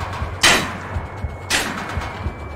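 Two sharp gunshots in the video game Manhunt, about a second apart, each a loud crack with a short decaying tail, over a low droning game ambience.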